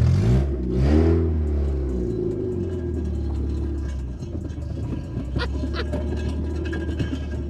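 English car fitted with a Japanese engine, revving up loudly nearby with a rough mid-range rumble that rises and falls in two early bursts, then settles into a steady idle with some clatter.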